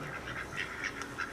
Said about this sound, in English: Lured the ducks into the potato patch with some feed